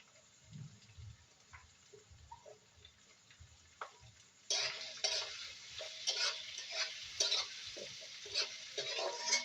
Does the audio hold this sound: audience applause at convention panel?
no